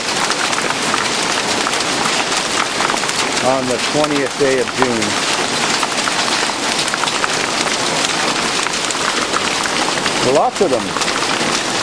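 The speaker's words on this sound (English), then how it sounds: "my cars are getting beaten by hail" Hail pelts parked cars on a farm during a June storm, a dense, loud, continuous clatter and hiss, while a person speaks briefly twice over the barrage.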